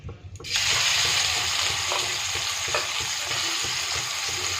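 Small prawns dropped into hot oil burst into a loud, steady sizzle after a brief quieter moment, the frying hiss holding close and even throughout.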